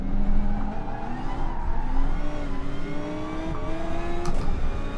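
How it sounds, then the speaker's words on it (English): Gr.3 racing cars in Gran Turismo Sport on the Dragon Trail circuit roar and rev together, engine notes rising and shifting as a BMW draws alongside to pass, a loud continuous mechanical drone with no talking. "BMW is about to pass me, I think"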